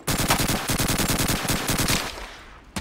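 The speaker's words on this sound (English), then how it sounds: "Oh, is this an MG? Yeah, it is." Rapid bursts of machine gun fire in Call of Duty 2, a continuous loud chatter of closely spaced shots lasting about two seconds before trailing off into quieter battle noise.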